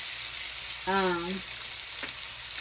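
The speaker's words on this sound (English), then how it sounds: "And I put it in a pan full of 2 tablespoons of butter and like 2 tablespoons of olive oil." Meatballs for a stuffed meatball sub frying in a pan of butter and olive oil, giving a steady close sizzle with one brief tonal squeak partway through.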